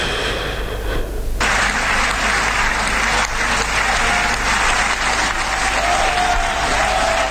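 Audience applause, steady and dense clapping from a crowd, starting abruptly after a second and continuing loudly to the end.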